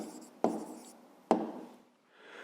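A pen writing an answer on paper for a fifth-grade maths division exercise, two short scratching strokes starting sharply and trailing off, close and quiet with no talk.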